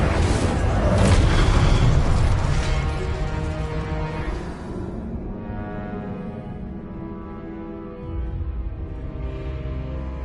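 The Incendio fire spell in Hogwarts Legacy erupts in a loud, close booming blast that rumbles and roars for a couple of seconds, then fades into a lingering low hum.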